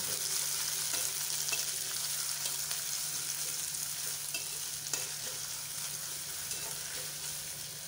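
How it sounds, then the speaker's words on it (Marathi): Finely chopped onion sizzling steadily in oil until reddish, a soft continuous crackle close by with faint stirring, gradually easing off. "कांदा लालसर होईपर्यंत परतून घ्यायचा।"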